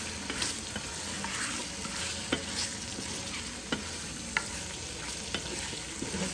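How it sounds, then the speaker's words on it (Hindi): Turnip beef (shaljam gosht) frying and being stirred in a pan, a steady close sizzle with occasional sharp scrapes and clicks of the spoon against the pan. "इसको इतना भूनना है थोड़ा सा कलर चेंज हो जाए।"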